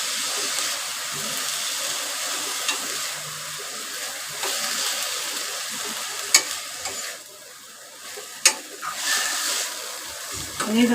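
Drumstick leaves frying with plenty of onion and coconut in a pan while being stirred, a continuous sizzle broken by a few sharp scrapes and clanks of the spoon, close up.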